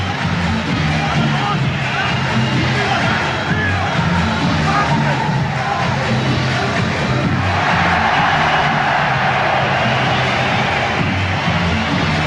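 Big arena crowd at a boxing match between Prince Naseem Hamed and Tom "Boom Boom" Johnson, roaring and cheering steadily throughout, a dense continuous hubbub with whoops that swells slightly louder toward the end.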